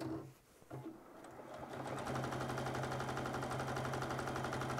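A sewing machine stitches around a skirt waistband, starting with a few halting clicks, then settling into a fast, steady, close mechanical whirring with even rhythmic chatter, and no talking.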